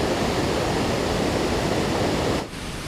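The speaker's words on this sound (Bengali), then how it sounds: "দেখুন কি অঝরঝরে জল বয়ে আসছে" Bhatinda Waterfall near Dhanbad, water rushing in a loud, dense, continuous roar heard close and alone, dropping slightly in level near the end.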